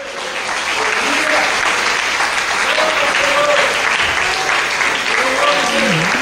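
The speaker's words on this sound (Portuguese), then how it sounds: "Aplaudam o Senhor" A church congregation claps together in sustained, loud applause during a worship service, a dense steady wash of hands with a few voices calling out above it.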